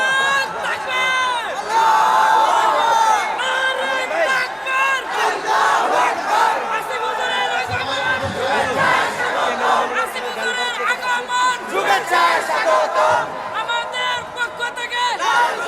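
Large crowd of young men at a religious gathering roaring a chanted takbir in unison, loud and surging in repeated waves with shouting and babble throughout.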